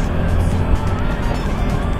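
Large lorries and cars pass on a busy road outside Bengaluru, producing a loud, continuous roar of engines and tyres close by.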